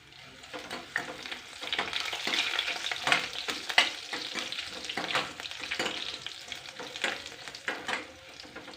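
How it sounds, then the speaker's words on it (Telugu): Cumin and coriander seeds fry in a pan with a crackly, popping sizzle, close up and fairly quiet, with bursts of spitting and faint stirring throughout and no voices. "జీలకర్ర కొన్ని ధనియాలు కూడా వేసి ఒక్క నిమిషం ఫ్రై చేయాలండి"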